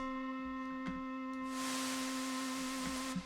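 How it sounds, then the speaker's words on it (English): A steady synth tone from Ableton's Operator gives way midway to a loud, continuous hiss of white noise that fills the clip until it cuts off abruptly, with no voices. "So here's white noise."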